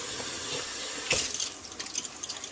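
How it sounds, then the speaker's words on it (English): Tap water runs steadily onto a greasy oven hood filter being rinsed in a sink, a constant hiss that turns splashier and more irregular as the metal mesh meets the stream. "We're gonna rinse it off here, and I'll show you."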